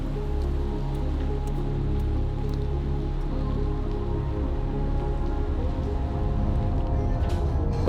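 Steady rain falls outdoors, a dense continuous patter close by with a low rumbling undertone, no voices.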